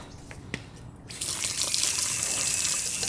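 Running water rinses soap suds off a small block Chevrolet engine block, a steady rushing spray that starts abruptly after a quieter second and continues loud and close to the end, with no talking.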